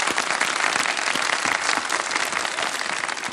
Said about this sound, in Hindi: तालियां बजा दें इस बात पर भाई